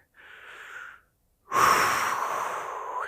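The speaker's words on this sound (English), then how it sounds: "Take a few deep breaths." Deep breaths taken slowly during a calming exercise: a soft inhale followed by a pause, then a longer, louder breathy exhale that fills the rest of the moment, close and clear with no talking.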